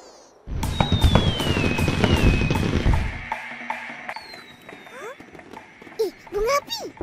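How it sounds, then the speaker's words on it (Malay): Fireworks go off during a Chinese New Year celebration in the animated series Upin & Ipin, with a whistling rise, a burst of crackling pops and scattered bangs, while children's voices and cartoon effects sound over them. "Bunga api!"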